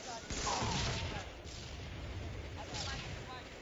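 Gunfire from an MLG Halo match rattles in bursts through a loud, busy mix, with heavy thuds and crackling shots layered under commentary-style voices.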